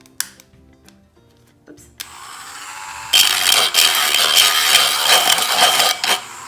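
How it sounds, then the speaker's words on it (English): A Dremel rotary tool sands the inside of metal cans, starting after a few light clicks as a quieter whir that jumps to a loud, steady high-pitched grinding for the last few seconds. A brief word is spoken near the start. "This is my Dremel, and I sanded the inside of these like this. It's gonna get loud."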